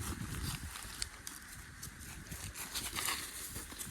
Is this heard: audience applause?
no